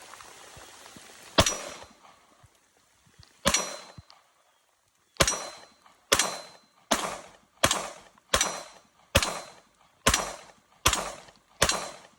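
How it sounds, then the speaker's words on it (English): A CZ Shadow 2 pistol fires in the rain at an outdoor range: two spaced shots, then a quick, even string of about nine loud, close, sharp reports. "I'm about to shoot the Shadow 2 for the first time"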